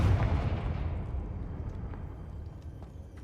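A Confringo blasting spell bursts in Hogwarts Legacy with one heavy, booming explosion at the start, its low rumble decaying steadily over the next few seconds.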